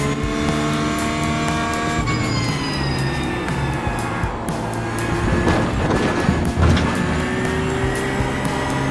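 A race car is driven hard on track at speed, its engine loud and close with a sustained high-revving note that rises and falls through gear changes, with no talking.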